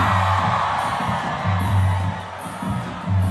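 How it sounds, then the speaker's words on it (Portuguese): Large concert crowd at a pisadinha show in Ribeirão Preto shouting, whooping and cheering loudly in a dense, continuous roar with rising bursts of yells. "Quem tem coragem de ir até as 5 da manhã comigo, dá um grito aqui."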